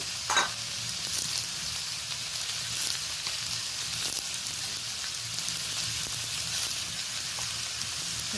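Kohlrabi, potato and brinjal stir-fry in an oiled pan, a constant close sizzle with occasional soft knocks and scrapes from stirring.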